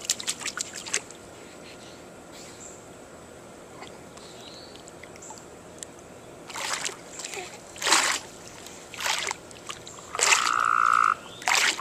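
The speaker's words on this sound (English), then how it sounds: "Was that a real frog? Yes, a real frog." A frog croaks near a pond amid splashing water, with short sharp calls and watery sounds at close range, while people talk around it.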